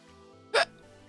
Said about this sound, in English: That was just a hiccup.